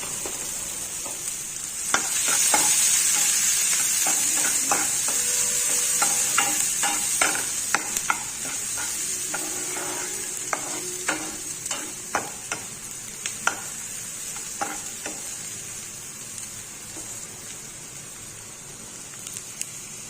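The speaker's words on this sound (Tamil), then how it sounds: "ஒரு பெரிய வெங்காயம் 1, இதை நல்லா வதக்கலாம்." One large onion sautés in hot oil in a pan for a mushroom masala semiya kichadi, a steady sizzle broken by frequent scraping stirs and clinks of a spoon, with no talking.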